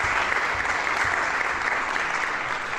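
Concert audience applauding, a dense, even wash of many hands clapping at steady loudness from start to finish, with no voices.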